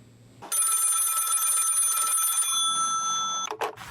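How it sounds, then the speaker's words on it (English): An answering machine plays back a ringing telephone, a loud electronic bell tone sounding in one long burst, then a shorter ring before a click cuts it off. "We're gonna listen to actually Hermie's answering machine as it's playing."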